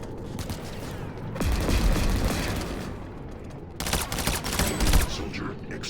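Planetside 2 battlefield gunfire: dense, sustained volleys of close shots in two long stretches, rattling and layered with heavy low thumps, over a constant combat din.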